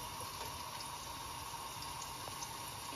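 Water runs steadily from a tap over canned chickpeas being rinsed in a kitchen while cooking chicken chole, a continuous even splashing hiss at moderate volume with no talking.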